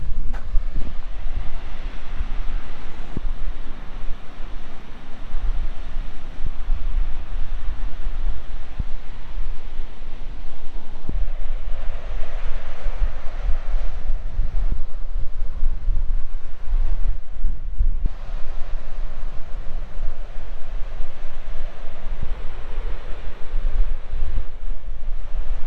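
Water thunders down the Dugarwadi waterfall near Nashik, Maharashtra, a steady, loud, rushing roar that fills the whole stretch without a break and with no voices.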